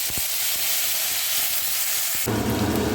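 Cumin, radhuni spice and shrimp hit hot oil in a pan, a steady loud sizzle that jumps to a heavier, fuller hiss near the end, with a few light utensil knocks.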